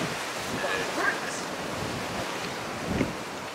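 Gusty outdoor wind buffets the microphone in a steady rushing roar with brief louder gusts, at a former colliery site with a cable car ropeway.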